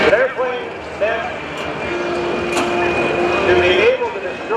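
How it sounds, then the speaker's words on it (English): A-10 Thunderbolt II jet on the runway at an AirPower Over Hampton Roads air show, its steady engine whine with a sustained tone under continuous talking from an announcer or crowd. "Top of the runway is the A-10 Thunderbolt 2"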